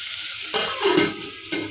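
Mutton curry cooking in a covered pan on the stove, giving a soft steady sizzle and bubbling with faint stirring scrapes, close and fairly quiet throughout.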